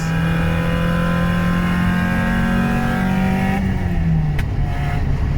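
A car engine accelerates hard, its revving pitch climbing steadily for several seconds before easing off as the car settles, loud and close throughout with no talking.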